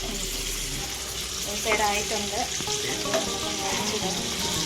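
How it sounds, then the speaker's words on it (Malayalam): Fish fillets frying in oil in a pan for a home-style fish curry, a steady close sizzle and crackle with a few scraping stirs of a utensil partway through. "നമ്മുടെ മീൻ വറുത്തത് റെഡി ആയിക്കൊണ്ടിരിക്കുകയാണ് നമുക്കിനി മറിച്ചിടാം"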